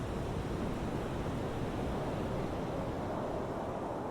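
Waves wash on a calm sea at Japan's northernmost point in Hokkaido, a steady, even surf hiss with wind noise on the microphone and no voices.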